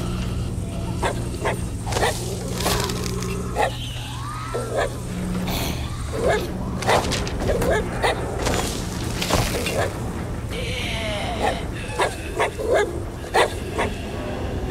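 Corgi dog in the video game Arizona Sunshine 2 giving repeated short barks, yips and whimpers over busy game background noise, fairly close, with someone talking at times.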